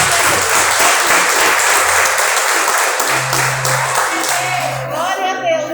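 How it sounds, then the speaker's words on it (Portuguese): A church congregation bursts into loud, sustained applause during a service, a dense close wash of many hands clapping with some cheering, thinning toward the end as a voice begins. "as palmas para o Senhor Deus"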